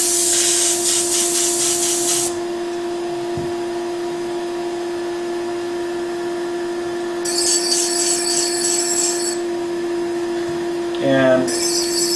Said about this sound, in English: I want to clear my airbrush now